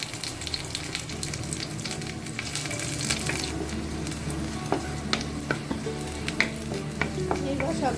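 Dry red chillies and nigella seeds sizzle steadily in a little oil, with scattered crackles and pops and occasional scrapes of stirring, close by and without talk.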